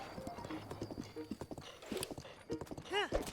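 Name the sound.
horse hooves clip-clopping in video game Zelda Breath of the Wild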